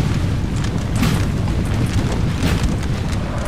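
Booming cannon fire from Napoleonic-era artillery in the Napoleon Total War battle game rolls on continuously, with deep, heavy thuds blending into a steady, loud rumble of distant and near shots.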